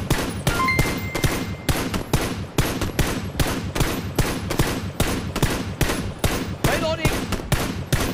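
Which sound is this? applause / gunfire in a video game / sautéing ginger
gunfire in a video game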